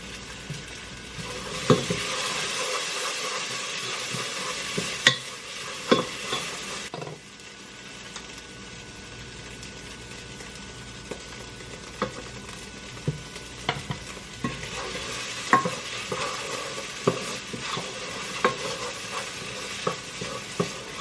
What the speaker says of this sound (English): Add tomato paste and coat the vegetables.